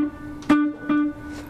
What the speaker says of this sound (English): So delay is basically echo, and it can sound like this.